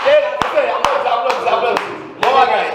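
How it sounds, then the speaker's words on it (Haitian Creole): A few people clapping in sharp, irregular single claps, close and loud, mixed with lively talk and voices throughout. "Applaudis."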